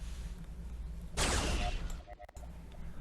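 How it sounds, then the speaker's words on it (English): A big rumbling explosion from a Star Trek Warp Speed fan video game bursts in suddenly, roars for about a second and fades out, with a few faint electronic tones after it. "you have that nice, big, satisfying explosion sound"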